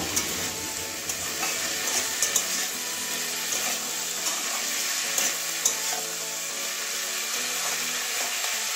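Data shak stems and eggplant with turmeric are stirred in a hot pan: a constant bright sizzle under light scraping and clicking of the spoon, with no talking.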